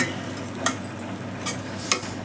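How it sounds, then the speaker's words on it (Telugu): A spoon stirs coriander powder and garam masala through moong dal in a pan, giving a steady soft scraping with a few sharper clinks of utensil on metal, close and fairly loud. "ధనియా పౌడర్, అర స్పూన్ అండి, అర స్పూను గరం మసాలా వేసుకున్నామా, నేను చక్కగా కలిపేసుకున్నాను."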